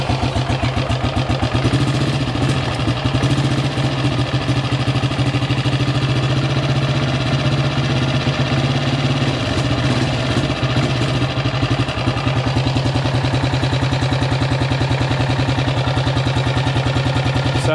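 A neighbor's ATV engine with its choke pulled out slightly, running at a low idle after starting. It holds a steady, close, loud putter with an even rhythm and no voices.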